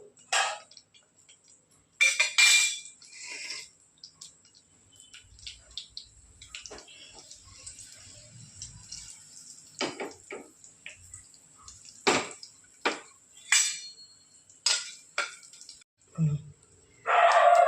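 Mustard seeds splutter in hot oil: sharp crackling pops and sputters burst at irregular intervals, close and fairly loud, with quieter sizzling between them.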